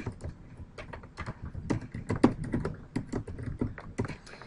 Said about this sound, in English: You're going to type your assignment.